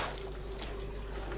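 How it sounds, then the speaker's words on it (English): Running water flows steadily into a skin-soaking basin at a tannery where animal hides are soaked to draw out salt, a close, continuous rushing wash with no talk. "He places them stretched so that they are in direct contact with running water."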